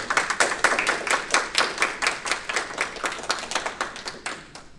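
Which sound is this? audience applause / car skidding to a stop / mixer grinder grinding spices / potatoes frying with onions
audience applause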